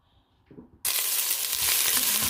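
Olive oil in a cooking pot set up for a hilsa fish curry bursts into a loud, hissing sizzle after a quiet moment, then holds a dense, steady crackle close by with no talking.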